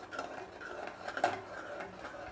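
A spoon scrapes and stirs yogurt gravy with bottle gourd in a pan, a soft, steady, close clatter with a brief louder knock partway through.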